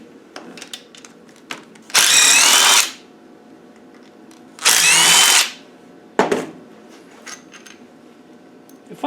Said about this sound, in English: Right, we'll get these last few bolts out.